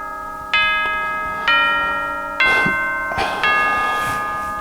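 Bright bell dings ring out in a sequence of four evenly spaced strikes, each clear and resonant with a long decaying tone, with no speech.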